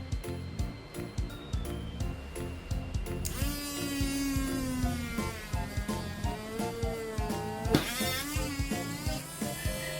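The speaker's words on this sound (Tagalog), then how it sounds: "So all you have to do is apply power para ma-penetrate yung drill bit dun sa gitna nung pinaka-wheel niya." Small power drill whining as its bit bores into the center of a Tamiya Mini4wd plastic wheel, starting with stuttering bursts then a steady high buzz with a brief pitch surge.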